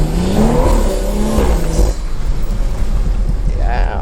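A BMW with an N55 engine and stage 2 tune accelerates hard, the engine note climbing through a rev sweep before a shift and dropping back, heard from inside the car with voices over it.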